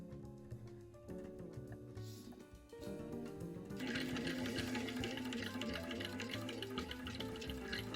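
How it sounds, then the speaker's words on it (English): Texel Industrial Sewing Machine Pro 4800 stitching leather, a rapid mechanical needle chatter that starts softer and then runs louder and busier for most of the stretch, with dense steady rattling and no talking. "We recently upgraded our sewing machine into Texel Industrial Sewing Machine Pro"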